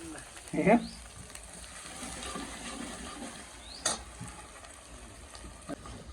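Hot oil tempering with red chilli for a whole-onion curry sizzles steadily and softly, with a sharp hiss as ingredients drop in and a few clinks of a utensil.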